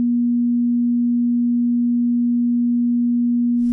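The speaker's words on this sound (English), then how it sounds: "the 240 Hz tone." A synthesized 240 Hz sine tone holds perfectly steady and loud for several seconds, alone and unchanging in pitch and volume.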